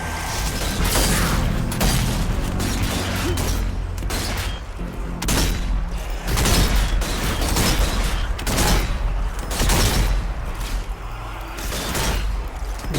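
Rifle gunfire in Zombie Army 4: Dead War, a run of loud, sharp shots spaced about a second apart, punchy and close, with mechanical clatter between them.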